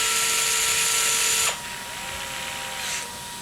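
A power screwdriver tightens the servo screw on a Traxxas Maxx V2 RC truck with a loud, close, high whir that cuts off abruptly, followed by a quieter lingering motor tone and a brief second buzz.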